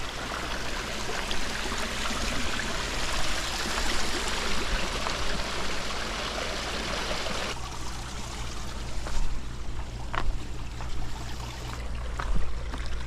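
Steady rushing water from a pond pump test flows continuously at close range for a backyard waterfall pond build, a constant splashing wash with no voices.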